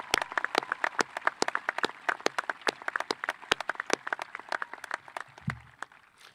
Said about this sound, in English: giving all 11 top students with a well-deserved round of applause